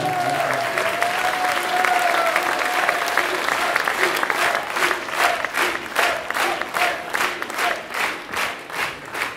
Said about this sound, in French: on lui fait une ovation